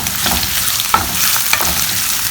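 Thinly sliced large onion sizzles steadily in a hot pan, a close, even crackle broken by a couple of faint stirring clicks.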